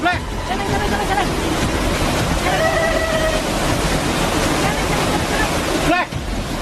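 Strong wind roars steadily outdoors at night, a dense continuous rush that buffets the microphone throughout, with faint voices underneath.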